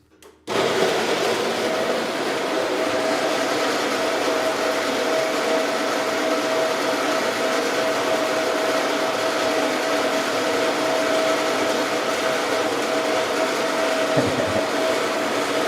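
A grinder runs continuously with a dense, steady whirring roar, starting abruptly and holding at an even level throughout with no talk.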